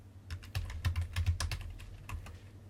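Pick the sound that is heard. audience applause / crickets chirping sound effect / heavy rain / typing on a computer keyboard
typing on a computer keyboard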